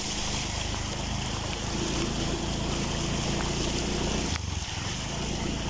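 A motorcycle rides through ankle-deep floodwater on a road, with a steady, loud rushing wash of water and engine noise that continues throughout and dips briefly near the end.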